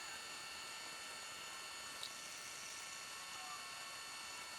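A K&T 2D rotary head mill turning painted 1-inch stock, giving a steady broadband machining hiss with a faint high tone and one small tick, even and continuous throughout.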